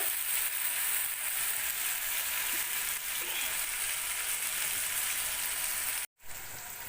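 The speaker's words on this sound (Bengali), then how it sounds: "মশলাটা একটু কষিয়ে দিয়েছে হাতে নেড়ে নিয়ে" Spice paste fries in a pan while being stirred by hand, made for a meal of chana dal and luchi, a continuous close crackling sizzle that cuts out briefly near the end.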